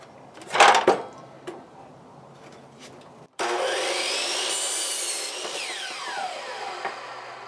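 Power saw cutting cedar boards to two-foot lengths: a few faint wooden knocks and handling sounds, then a loud, steady whining cut starting midway and running to the end, with a pitch sweep near the finish.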